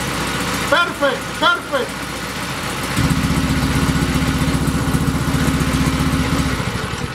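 Zundapp KS750 motorcycle engine: a steady mechanical hum at first, with a voice briefly speaking over it, then a louder, deeper rhythmic idling throb from close by that holds steady to the end.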